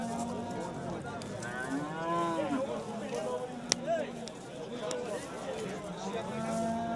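Cows at a busy livestock bazaar in Fergana give several drawn-out moos, some near and some farther off, while people talk and bargain in the background.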